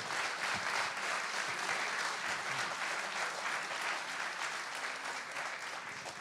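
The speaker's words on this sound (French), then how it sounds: "je vous demande, s'il vous plaît, d'applaudir, mais très très fort, les organisateurs" At a sports awards night in Digne-les-Bains, a large hall audience claps steadily for the event organizers. The applause sounds fairly distant and soft but stays continuous, without fading, for several seconds.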